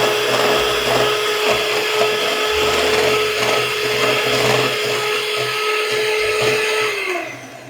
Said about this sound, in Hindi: Now I will add the second egg and again mixer on करूंगी till it become homogeneous.